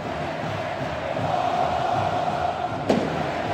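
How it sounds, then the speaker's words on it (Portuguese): A Flamengo football crowd fills a stadium with steady, continuous chanting, a dense roar that holds throughout with a short sharp knock near the end. "A torcida do Flamengo não para um minuto, hein?"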